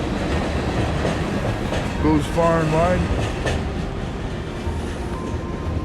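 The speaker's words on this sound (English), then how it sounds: "Here comes the train now. That's one of our public transport trains." A public transport passenger train rumbles steadily past near Vancouver's Waterfront Station with a rolling clatter, while someone speaks briefly over the continuous rail noise.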